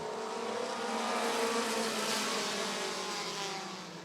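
Several race cars roar together as a short-track heat gets the green flag at Rockford Speedway, a dense, loud engine wash that swells and holds steady without pause.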